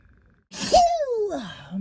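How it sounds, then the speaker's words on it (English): A single loud sneeze bursts out after a brief silence, followed by a trailing voiced exhale. "gotta sneeze"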